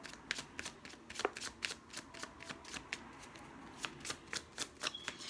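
Tarot cards being shuffled by hand, a rapid series of crisp riffling bursts and soft flicks repeating steadily for several seconds, close and fairly quiet, with no talking.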